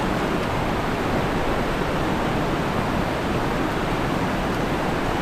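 A strong river current rushes steadily at a tilapia fishing spot, a dense, constant wash of flowing water that stays loud and unbroken throughout, with no voices.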